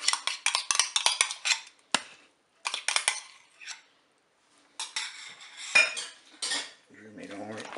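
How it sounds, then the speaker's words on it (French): A utensil scrapes and clatters against a bowl in quick, uneven bursts while a salmon terrine mixture with fromage blanc is stirred, with short pauses between rounds of close, bright scraping. "Je mélange à nouveau. Je vais ajouter le fromage blanc."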